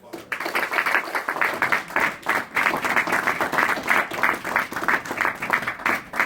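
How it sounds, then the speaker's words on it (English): An audience at an Afrodescendant Nation introduction event breaks into sustained, dense applause, many hands clapping together in a steady wash that swells and dips but never stops. "I think he deserves a round of applause."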